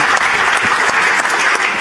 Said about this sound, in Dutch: Mag ik een applaus?